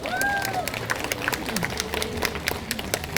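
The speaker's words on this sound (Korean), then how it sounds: "박수 소리가 좀 적은 것 같아요." Audience at a Korean humanities camp event with poet Ahn Do-hyun gives scattered, uneven clapping, individual claps popping over a noisy hall while a voice carries through the background.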